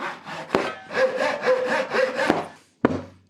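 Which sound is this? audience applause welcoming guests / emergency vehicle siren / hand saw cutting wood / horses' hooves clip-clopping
hand saw cutting wood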